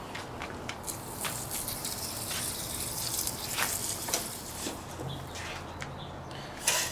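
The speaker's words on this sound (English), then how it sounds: "take a little water jet here." A fine water jet sprays onto the root ball of an old juniper bonsai during repotting, giving a steady soft hiss with scattered drips and splashes throughout.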